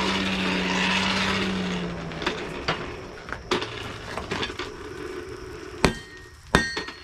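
Hand hammering to set forge welds on a dagger billet, sharp metallic blows at irregular intervals, near and loud, with a roaring forge or blower in the background at first.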